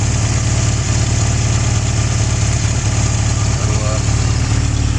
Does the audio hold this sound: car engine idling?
yes